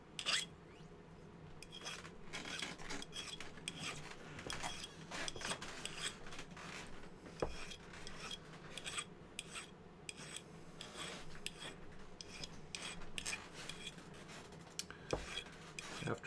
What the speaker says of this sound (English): there's typically a little excess solder, so I use the bastard file to remove that